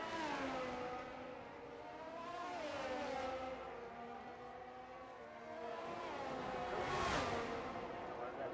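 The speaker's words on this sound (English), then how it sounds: "Gears down all the way to 1st gear briefly just to get around that corner." An F1 racing car in a racing video game drops through the gears down to first for a corner, its high engine whine stepping down in pitch, then climbing again as it accelerates away; a voice talks quietly underneath.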